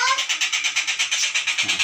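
A cat calling up close in a short burst of rapid, evenly pulsing meow-like trills, loud and alone.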